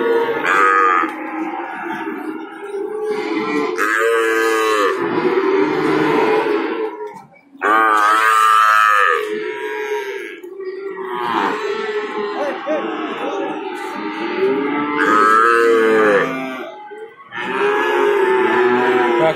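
Javanese female calves bellow at a cattle market, loud, drawn-out moos repeated again and again from close by with short pauses between calls, while people talk in the background.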